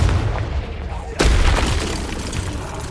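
A Confringo fire spell explodes in Hogwarts Legacy with one sudden, loud boom partway through, then a sustained roar that lingers over steady game background noise.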